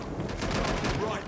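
Rapid gunfire in the video game Watch Dogs Legion, a dense, continuous burst of shots with a rumbling low end, loud and sustained throughout.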